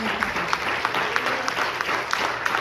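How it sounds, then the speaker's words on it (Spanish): A crowd at a church service claps steadily throughout, a dense, even patter of many hands at moderate distance with no voices standing out. "Denle este aplauso al Señor."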